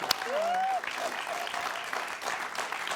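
Steady applause from a crowd at a comedy show, fairly loud and unbroken for the whole stretch, opening with a brief whistle-like tone.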